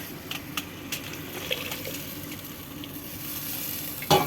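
Onions and spices frying in a pan for a Bengali katla fish and kochurmukhi curry, a steady low sizzle with faint stirring scrapes and a sharper clatter near the end.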